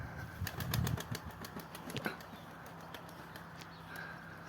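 A pigeon takes off with a quick burst of flapping wings, a rapid series of soft claps up close, then quieter flutters fading as it flies away.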